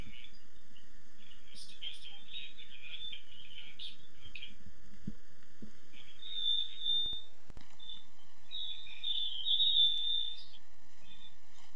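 Birds chirping and squeaking as they come through a call participant's microphone, thin high tones in short bursts and longer squeaks, faint and somewhat distant, with a voice talking quietly beneath.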